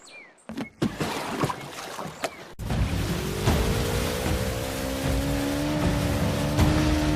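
A car in the Uncharted video game starts up after a few sharp knocks and clunks, then its engine drones steadily with a rising, sustained tone and rumbling road noise throughout.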